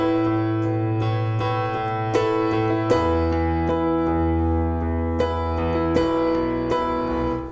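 Piano playing a worship song with the sustain pedal held down, notes ringing together into a continuous wash of chords with soft repeated strikes, close and steady throughout.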